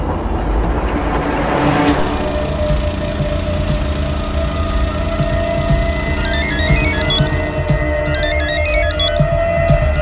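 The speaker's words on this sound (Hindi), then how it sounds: "ये रमन फोन ही नहीं उठा रहा है।" A phone's electronic ringtone chirps in repeated bursts over a loud rumbling engine-like background, ringing on without being answered.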